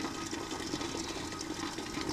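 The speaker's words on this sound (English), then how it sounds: "It's almost to a full boil." Water nearing a full boil in a Groen TDB 6-10 electric jacketed kettle gives a steady, fairly quiet bubbling hiss and churn, constant throughout with no voices.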